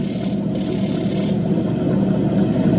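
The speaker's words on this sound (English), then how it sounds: "We probably shouldn't start on this medium grit wheel, but we're going to." Andamooka matrix opal being ground on a medium grit wheel, a steady, continuous rasping whir that holds close and fairly loud throughout with no talk.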